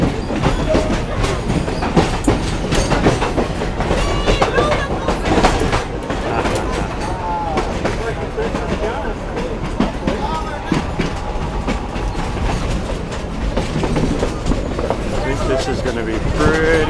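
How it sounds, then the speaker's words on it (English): An old wooden train runs on rails on a 50-minute ride, its wheels beating a steady clickety-clack over a loud continuous rumble, with voices talking over the noise. "An old wooden train."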